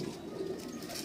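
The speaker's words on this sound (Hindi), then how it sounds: "ये भी मोहर लगा कबूतर है हमारे घर का" A pigeon in a breeding loft gives a soft, brief low coo, faint against background noise.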